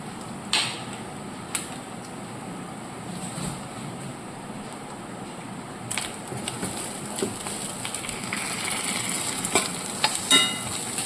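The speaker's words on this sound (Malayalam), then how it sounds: "ഇനി ഈ തേങ്ങയ്ക്കകത്ത് നമുക്ക് 1 സ്പൂൺ ഉഴുന്നുകൂടെ ഞാൻ ഇടുന്നുണ്ട്." Grated coconut and urad dal roasting in a pan, with a low steady sizzle broken by occasional sharp taps and stirring scrapes, close and with no one talking.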